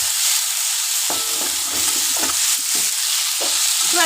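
Fish roe kofta curry masala frying steadily in a pan with sugar being stirred in, a constant sizzle broken by several scraping strokes of a spoon, close and fairly loud with no talking.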